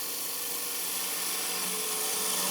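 A woodturning gouge cuts into wood spinning on a lathe at 1500 RPM, giving a steady, close, high hissing whine that holds without a break.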